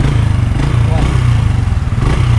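The engine of a used motorcycle runs close by in a steady, throbbing idle with a low, even rhythm throughout.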